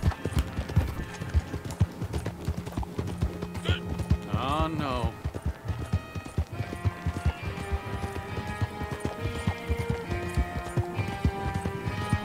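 Horse hooves clip-clop steadily in a bounty-hunter video game, with a brief whinny partway through, all heard under ongoing speech and game sounds.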